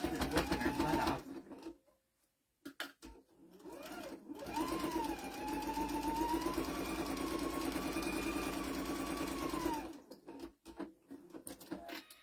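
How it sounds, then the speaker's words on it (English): A sewing machine stitches along the side of a fabric pot holder, running in a steady whirring burst for about five seconds after brief starts and stops, then halting. "Then we sew on the other side."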